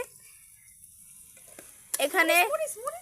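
Food frying in a pan on a home stove as someone stirs it, a faint, steady sizzle for the first two seconds before a voice starts talking over the cooking.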